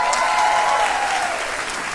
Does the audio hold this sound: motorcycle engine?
no